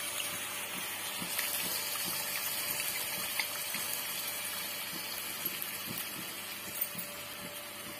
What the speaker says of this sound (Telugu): చింతపండు గుజ్జు పోస్తున్నామండి.